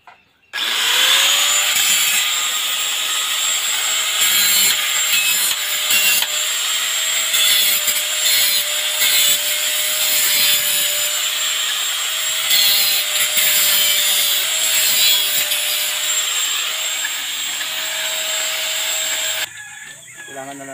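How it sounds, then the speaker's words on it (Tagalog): An angle grinder cuts and strips aluminum from scrap metal, its loud steady whine holding for about twenty seconds before cutting off, close up, with no voices over it. "Gagamit po tayo ng grinder para mabilis."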